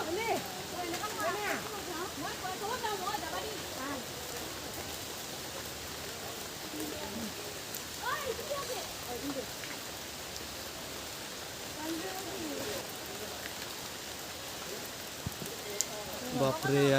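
Heavy, steady rain pours over a temple set among the hills, a dense, even hiss that carries on without a break from start to finish.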